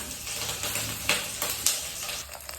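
Green chilies sizzle in hot gingelly oil for tempering, a steady close frying hiss with a few sharper crackles and pops.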